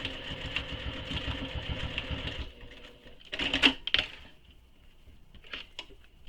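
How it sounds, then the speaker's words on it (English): A sewing machine stitches a handbag seam, its steady mechanical rattle running for a couple of seconds before stopping, followed by a few quieter clicks and handling noises. "So I do try to hand crank or sew very slowly the first few stitches."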